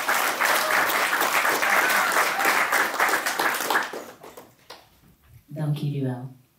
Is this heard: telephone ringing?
no